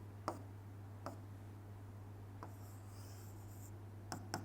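A pen writing out binary division remainders on paper makes a few faint, sparse scratches and taps over a steady low hum, with short strokes spread across the quiet.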